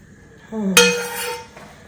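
A metal spoon clinks against a frying pan while excess oil is scooped out during ripe plantain tortilla cooking: one bright ringing clink, then a short, faint sizzle, close and alone.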